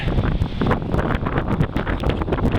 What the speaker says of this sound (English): it's pretty breezy